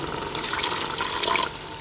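Water pours into a cooking pot of aloo keema curry, a steady splashing gush lasting just over a second before stopping, close and clear with no talk.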